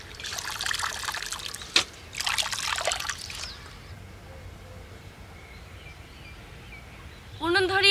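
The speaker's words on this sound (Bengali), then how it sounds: "সবজিগুলো এবার ভালো করে ধুয়ে নেব" Spinach, carrots and other vegetables are washed in water in a village kitchen, with splashy bursts of trickling and pouring that fade to quiet, then a final splash.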